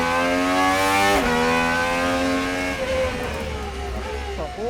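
A Gordon Murray GMA T.50s with a V12 engine accelerates hard on a track, its loud, high-pitched engine note climbing steadily, dropping briefly at a gearshift, then rising again as revs build and fade slightly toward the end.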